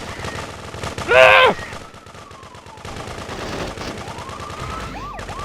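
Gunfire in Grand Theft Auto 2 rings out in one short loud burst of rapid shots, followed by a siren wailing under game noise, with a brief shout from a voice.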